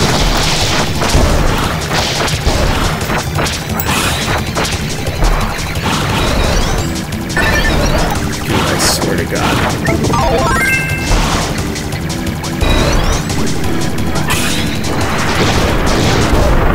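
Loud, continuous audio from Kirby's Return to Dreamland with repeated booming cannon blasts and crashes layered over busy music and effects.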